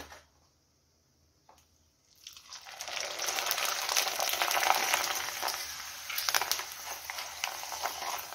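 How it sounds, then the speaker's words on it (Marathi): Rice papad frying in hot oil in a large kadhai: after a near-silent start, a loud, dense bubbling sizzle surges in and holds steady, with crackling pops scattered through it. "तर अशा प्रकारे बघा आपण तांदळाच्या पापड तळून घेतलेले आहेत"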